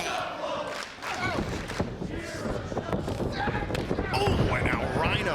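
Wrestling crowd in a Las Vegas arena at a TNA event, a dense roar of cheering and shouts that swells toward the end, with commentary running over it.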